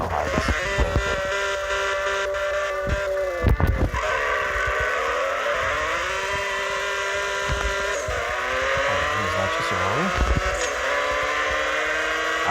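A car engine in the CSR2 racing video game revs up and down repeatedly, its whining tone climbing and falling, with brief sharp gear-shift or tire clicks between the revs, loud and continuous.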